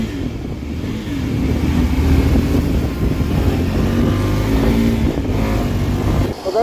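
KTM RC 390 motorcycle engine and exhaust accelerating, a loud, close rumbling rev that builds and holds for several seconds, with a brief dip near the end.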